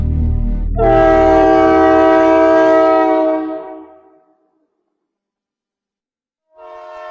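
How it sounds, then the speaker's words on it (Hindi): A train roars along at full speed at night, a loud sustained horn blast sounding over the rumble before cutting off into silence, then another horn note begins. "अंदर ट्रेन के पहियों का कभी ना रुकने वाला शोर"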